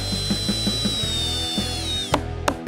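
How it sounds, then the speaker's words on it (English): A Kobalt power drill bores holes in a wooden desk for attaching plexiglass, its motor whining at a steady high pitch that gradually sags, with light rhythmic ticking underneath and sharp clicks near the end. "drill holes where I'll attach the plexiglass."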